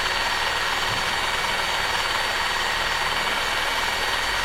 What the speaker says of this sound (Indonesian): ini ratakan menggunakan bor ini ya teman-teman ya